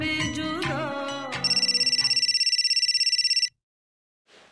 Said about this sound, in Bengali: কার ফোন বাজছে?